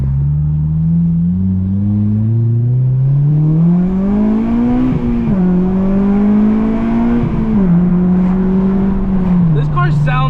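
An 8th-generation Honda Civic Si tuned with a Hondata FlashPro accelerates hard, its engine note climbing steadily in pitch with brief dips at shifts, loud and close throughout.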